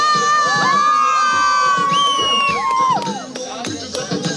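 An audience cheers and shouts at a hip-hop event, with high children's voices whooping loudly, then fading into scattered yells and claps.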